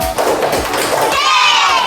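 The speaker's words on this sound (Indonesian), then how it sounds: "Tepuk tangan dulu untuk teman kita." Elementary schoolchildren in an Indonesian classroom clap for a classmate, a loud burst of clapping mixed with shouting, cheering and some thuds, with children's voices rising toward the end.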